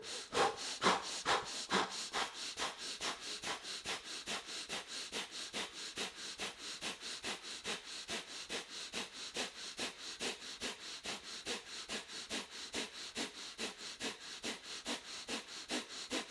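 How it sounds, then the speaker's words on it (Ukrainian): Yoga breathing cycle with sharp rhythmic inhales and exhales through the nose, evenly spaced and repeating many times, close and steady with no talking. "Вдих, вакуум. Видих, вдих."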